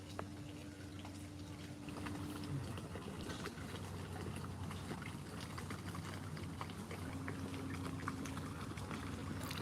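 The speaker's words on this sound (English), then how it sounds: "Love the sound of water hitting the boat." Water lapping against a boat on the Norfolk Broads at Horning, a steady washing and sloshing with a low engine hum underneath and no talking.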